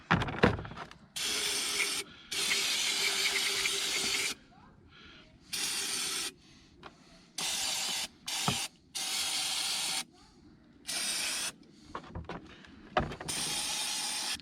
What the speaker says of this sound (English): Use some brake clean.